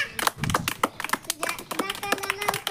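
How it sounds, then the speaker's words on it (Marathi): A small group of people, seemingly a cast of actors gathered for an audition, clap their hands in uneven bursts of sharp claps, with some talking mixed in. "सगळ्यांनी टाळ्या वाजवा."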